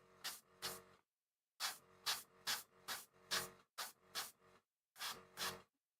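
White paint sprays in short, hissing bursts, mostly in quick pairs with brief pauses between them, loud and close with no talking.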